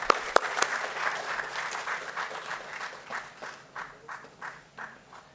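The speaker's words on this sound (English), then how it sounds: "Let us welcome Poorvi with a big round of applause." An audience applauds a speaker coming on stage, steady dense clapping that thins into distinct scattered claps toward the end, with no talking over it.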